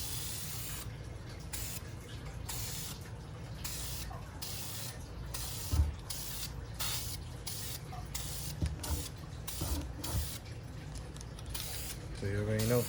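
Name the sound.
spray-priming windshield wiper arms in a spray box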